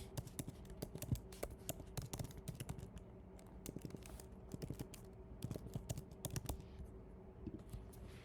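Login credentials are tapped out on a Mac computer keyboard in a quiet room, a steady run of close, soft key clicks with brief pauses and no voices.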